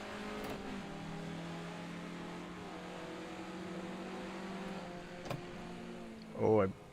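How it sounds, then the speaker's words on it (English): A 1967 Formula Ford racing in Assetto Corsa, its engine droning in a steady buzzing tone that drops in pitch through downshifts, ending with a short sharp rev blip at the close. "I downshifted way early for that"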